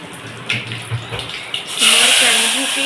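Water is poured into a hot dhokla tempering of oil, mustard seeds, curry leaves and chili powder, bursting into a loud sizzling hiss and bubbling partway through after a few quieter kitchen sounds and a brief voice.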